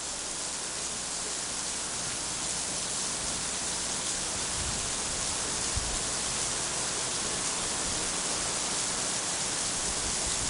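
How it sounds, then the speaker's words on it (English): Heavy rain pours down steadily at an outdoor women's college soccer game, a loud, unbroken hiss of falling water that lasts throughout with no voices. "it's raining harder now than it has been"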